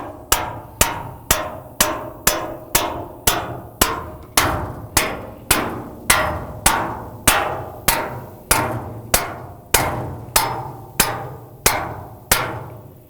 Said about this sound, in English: you're gonna hammer all the way down until you can line up